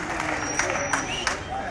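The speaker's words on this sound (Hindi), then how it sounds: "ठोको ठोको ताली ठोको इनके लिए।" A rally crowd applauds in a steady, dense patter of clapping under general crowd noise, with a few sharper claps standing out.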